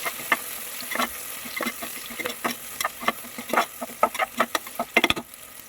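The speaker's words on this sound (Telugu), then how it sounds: "అందులోకి ఒక 4 టేబుల్ స్పూన్స్ ఆయిల్ యాడ్ చేసుకొని ముందుగా తరిగి పెట్టుకున్న ఆనియన్స్ని గోల్డెన్ బ్రౌన్ కలర్ వచ్చే వరకు" Chopped onions frying in about four tablespoons of oil in a pressure cooker, with sharp, irregular clacks of a spoon stirring against the metal over a low sizzle, close and fairly loud.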